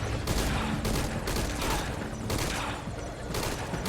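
Rapid gunfire in Metal Gear Solid V: Ground Zeroes as Snatcher enemies are shot, dense continuous bursts of shots with loud bangs over a busy game soundscape, no talk.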